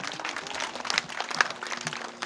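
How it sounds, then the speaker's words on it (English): Group applause and clapping rise after a Hawaiian oli chant at a protocol lesson in Kapolei, Oahu, a steady patter of many hands filling the short clip at moderate level with a few sharper claps. "Give yourself a clap."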